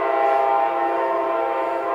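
A train sounds a long, steady, tonal horn in the distance, holding at a fairly even level throughout.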